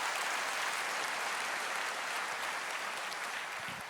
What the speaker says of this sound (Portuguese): E pode aplaudir